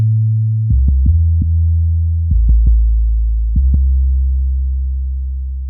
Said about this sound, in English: made it so it kind of follows the kick, but it just has more of a boomy sound